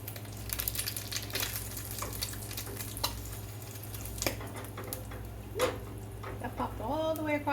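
Eggs frying in a pan on a stove give a soft, steady sizzle with scattered sharp pops and crackles, one larger pop near the end, and a faint voice murmuring briefly at the close.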